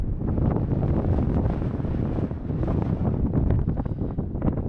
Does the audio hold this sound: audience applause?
no